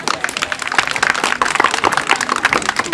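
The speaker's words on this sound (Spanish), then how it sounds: "¡Un aplauso para todos los niños!" A crowd claps for children at a community gathering. The applause is steady and dense, with many hands beating close together the whole way through.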